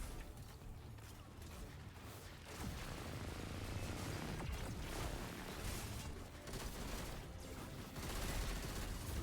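Machine gun fire in a video game shooter mixed with mechanical clanks and ongoing combat effects, a steady rattling barrage that runs throughout at moderate loudness with no talking.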